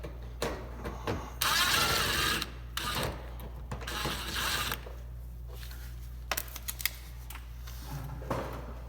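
Phillips screw being backed out of the front bumper of a Honda Accord sedan, where it runs into the fender: two bursts of whirring power-driver spin with ratchet-like mechanical clicks, close by, then scattered small taps over a low steady hum.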